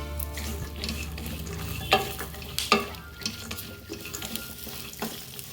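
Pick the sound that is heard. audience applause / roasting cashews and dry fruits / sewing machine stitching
roasting cashews and dry fruits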